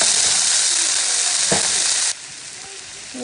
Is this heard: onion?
yes